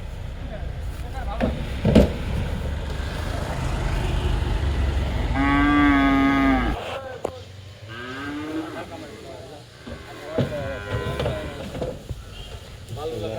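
Cows moo loudly and close while being loaded onto a truck, long drawn-out calls with a few shorter ones, over background bustle and some voices.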